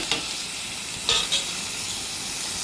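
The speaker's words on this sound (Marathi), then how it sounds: "आता आपण ह्याच्यामध्ये ज्या भाज्या चिरून घेतलेल्या आहे ते टाकूया" Chopped vegetables and tomato dropped into a hot pan for masale bhat, a steady bright sizzle with a few brief clatters as pieces land, near and without talk.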